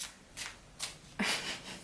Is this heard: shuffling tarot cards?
yes